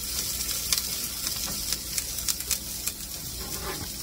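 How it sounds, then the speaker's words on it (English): Onions sautéing in a pan for bean, ham and potato soup, a continuous close hissing sizzle with a few soft stirring taps scattered through. "And I also have some onions that I'm sautéing here."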